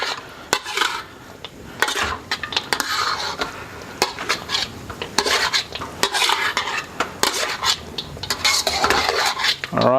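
Metal spatula repeatedly scraping and clattering through chicken cashew stir fry in a pan, a steady busy rhythm of close utensil knocks over a faint sizzle, no voices.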